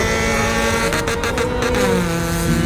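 A Honda 1.6 VTEC petrol engine running steadily, loud and close, with a sustained droning tone and a slight shift in pitch partway through.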